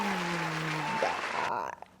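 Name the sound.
round of applause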